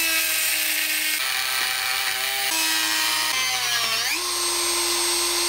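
A Dremel rotary tool cuts through the outer cage of a differential bearing, giving a loud, close, steady high-pitched whine that dips and shifts in pitch as the cutting wheel loads up, with no talking.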